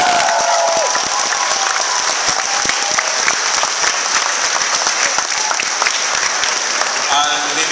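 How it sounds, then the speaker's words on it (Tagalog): Loud, sustained applause from a large crowd at a religious fiesta in Obando fills the space, steady clapping throughout with a voice briefly audible over it. "Malakas na palakpak sa Panginoon."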